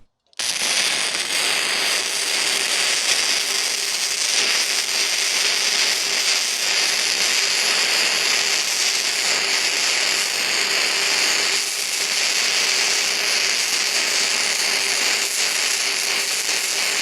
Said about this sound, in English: Let's weld them together.